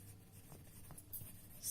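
A pen or pencil writing a number by hand on paper, with soft, brief scratching strokes that sit faintly under low background noise.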